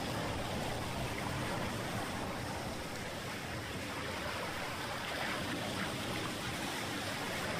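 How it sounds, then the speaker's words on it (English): Ocean waves washing onto a beach in the video game A Warmer Shade of Summer, a steady, unbroken roar of surf and rushing water with no talk, fairly loud throughout. "sitting in the sand listening to the waves"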